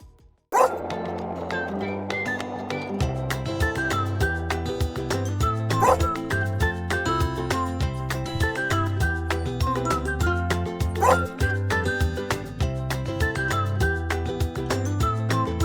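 Small dogs yip and bark repeatedly over a steady, rhythmic music track that plays throughout.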